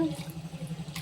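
Water pours steadily into a cooking pot of sambar in a low, pulsing gurgle, close and fairly soft, with no talking.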